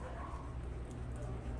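A litter of twelve small puppies yipping and whimpering together, a continuous busy chorus of little high cries over a low background rumble, with some voice-like sound mixed in.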